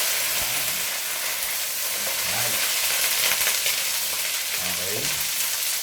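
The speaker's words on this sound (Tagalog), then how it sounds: "now let's begin by sauteing. So, we'll put these whole" Whole garlic cloves sautéing for a beef stew, a steady close sizzle and crackle of oil running throughout, with faint stirring clatter and a brief bit of speech.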